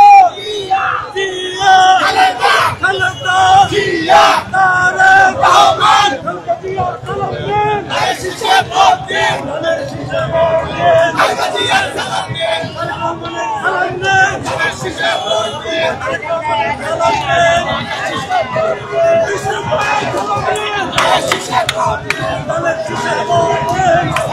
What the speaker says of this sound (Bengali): হাজার হাজার নেতাকর্মীরা রয়েছেন এবং তারা বিভিন্ন দলীয় স্লোগান দিচ্ছেন।